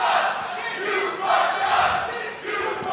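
A wrestling crowd at a PWF Livewire match chants loudly and continuously in rhythmic waves of massed voices, filling the arena for several seconds.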